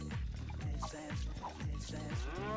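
A cartoonish cow in LittleBigPlanet moos repeatedly in a quick rhythm of descending, pitch-sliding calls, loud and close over a continuous game backdrop.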